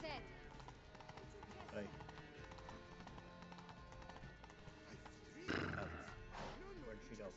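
A horse gallops and whinnies in The Witcher 3, hoofbeats clattering under excited overlapping talk, with a sharp louder neigh bursting out near the end.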